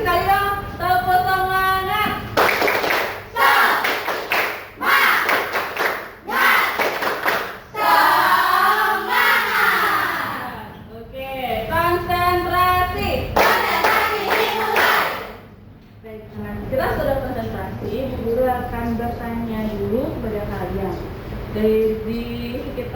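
A class of students claps through a spirit cheer again in a Hindu religion lesson, rapid patterned group claps interleaved with loud shouted chanting, close and energetic, repeating over several rounds.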